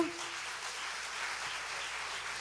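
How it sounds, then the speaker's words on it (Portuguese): A church congregation applauding during a worship service, a soft, even patter of clapping heard from a distance and sustained throughout. "Vamos aplaudir ao Senhor por esse momento."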